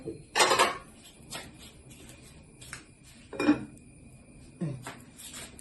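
Metal lid set onto a cooking pot of wild elephant foot yam stem curry, several sharp clanks and scrapes spaced a second or so apart, close by against a quiet kitchen background.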